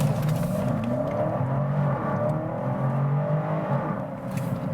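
A 2020 BMW X5 with permanent all-wheel drive pulls hard from a standstill to about 50 mph, its engine note rising steadily and loud inside the cabin with no talking.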